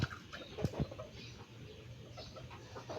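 Sweater gamefowl rooster in an open-air backyard farm gives a few short clucks early on, then a low murmuring of fowl continues at moderate distance.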